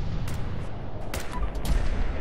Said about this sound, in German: Das ist übrigens unsere Waffe, die immer zwei Schüsse abgibt.